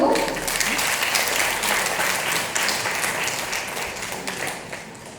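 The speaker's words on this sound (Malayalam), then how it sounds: "ഈ അതുല്യ കലാകാരിക്ക് വേണ്ടി നല്ലൊരു കയ്യടി കൊടുത്തു" An audience applauds an honoured woman artist at a felicitation ceremony, steady sustained clapping filling the hall for several seconds before slowly thinning.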